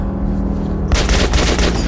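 Loud gunfire erupts in the video game Metro Last Light, a dense rapid burst of shots starting about halfway through, following a tense rumbling ambience; no voices.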